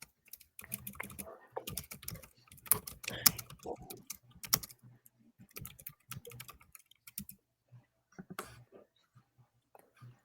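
A loud mechanical computer keyboard is typed on in quick, irregular bursts of sharp clicks and clacks, close by with short pauses between runs of keystrokes.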